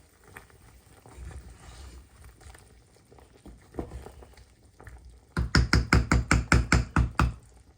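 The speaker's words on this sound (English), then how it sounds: "So I'll cover them and let them continue boiling." Food boiling in a covered pot on the stove: quiet bubbling and soft clinks at first, then a rapid series of loud rhythmic rattles as the lid bounces with the boil.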